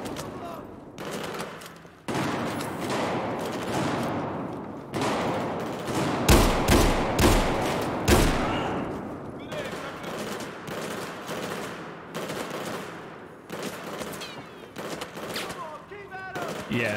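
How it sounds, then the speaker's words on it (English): Dense bursts of gunfire and heavy shots ring out through a Battlefield 4 campaign firefight, loud and continuous for most of the stretch, with a few sharper blasts standing out midway. "Shooting at each other."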